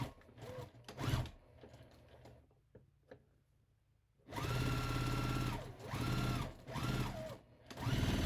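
A sewing machine stitching an apron seam, short bursts of rapid mechanical whirring and ticking, with quiet handling noises between, then longer near, steady runs of stitching with brief pauses.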